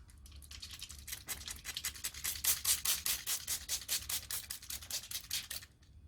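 A squirt bottle sprays water onto a piece of leather for a belt: a rapid series of crisp, hissing spritzes in an even rhythm, close and fairly quiet, with no talking.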